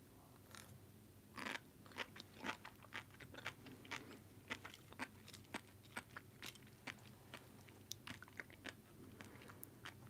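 Close, soft crunching and chewing of sea grapes, a quick series of crisp bursts and wet bites popping out over quiet, with no talking.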